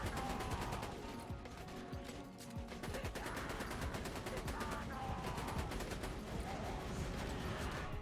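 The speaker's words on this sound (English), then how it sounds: "Turret in front of the boss, turret behind the boss, shoot boss, shoot weird guy that pops out." Dense, continuous volley of video game gunfire as turrets and guns shoot at a boss, rapid machine-gun bursts layered over each other at steady loudness for the whole stretch.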